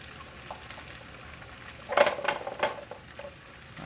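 Peppers are tipped into a frying pan for a fried hot dog dish, giving a brief clattering splash in the middle over a faint background hiss.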